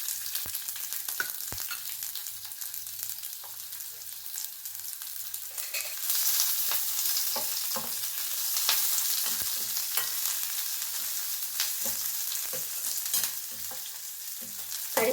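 Onions sizzle and crackle in two to three spoons of hot oil for a chicken green masala, a steady frying hiss with occasional stirring clicks that grows brighter and louder partway through.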